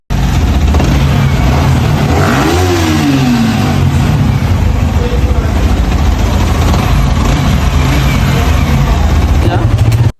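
A Yamaha R15 V3 motorcycle, just repaired for an engine sound problem, runs loud and close with a sharp rev rising and falling early on, then a steady, rough mid-pitched engine drone throughout.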